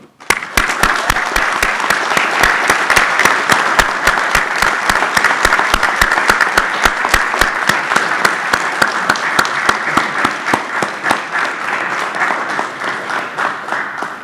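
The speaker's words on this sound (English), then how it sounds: "giving them a hearty round of applause" Loud, dense applause from a ceremony audience honoring graduates' parents and loved ones at an engineering induction event, many hands clapping steadily with sharp individual claps standing out, tapering slightly toward the end.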